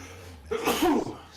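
A single sudden sneeze bursts out near the microphone, a sharp breathy blast over quiet background.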